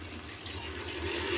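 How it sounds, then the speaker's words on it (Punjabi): Water pours into a pan of roasted rice, a brief, soft continuous rushing gush that swells slightly toward the end, heard alone without talk. "ਤੇ ਹੁਣ ਵਿੱਚ ਪਾ ਦਵਾਂਗੇ ਪਾਣੀ"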